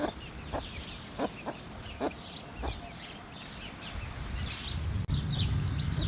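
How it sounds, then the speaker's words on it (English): A broody hen gives soft, repeated clucking calls to her chicks at a steady pace, fairly quiet and close, with faint chick peeps and light background noise. "the brood hen is still constantly calling to the chicks"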